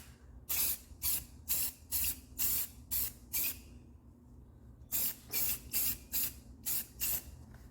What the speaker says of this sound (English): We got a little overspray there.